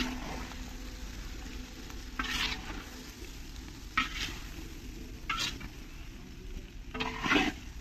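Jujubes frying with turmeric, salt, red chili and ginger in hot oil in a large wok give a steady close sizzle, broken every second or so by short scraping stirs of the spatula.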